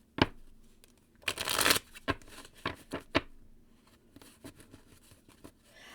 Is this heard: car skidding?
no